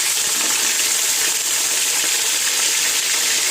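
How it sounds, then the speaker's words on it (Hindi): Chicken frying in hot oil with onions for Hyderabadi biryani, a dense, steady, loud sizzle with crackling and stirring throughout. "अब इसी के अंदर चिकन डाल दीजिए"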